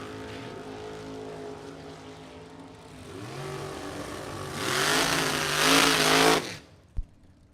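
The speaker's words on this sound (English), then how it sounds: "Another incredible drag race." At a bracket drag race, a Chevrolet Camaro and a 1969 Chevrolet Nova idle with a harmonic engine drone, then rev and launch in a rising, roaring surge. The roar cuts off sharply, followed by one brief thump, with no speech.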